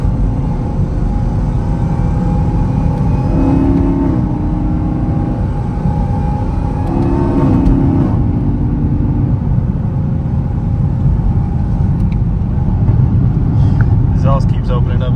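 Camaro ZL1 with a supercharged engine and cold air intake, running in a steady close drone with a couple of brief revs and a whining tone on top, while someone talks over it.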